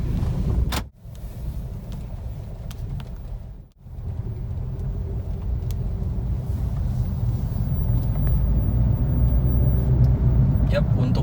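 A discontinued Honda Jazz accelerating out onto the road, heard as a steady low engine and road rumble from inside the car that swells gradually, with two brief dips near the start.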